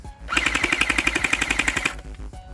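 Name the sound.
Hydro Strike Pulsar Pro bead blaster toy firing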